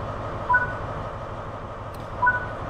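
A GWR train in the Train Sim World 3 game runs with a steady low mechanical hum, and two short electronic beeps sound about two seconds apart.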